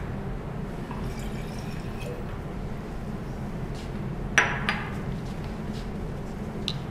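Water emptied from laboratory glassware into a waste container in an organic chemistry lab: a steady, even pour and rush of liquid with a few brief glassy knocks and drips near the end.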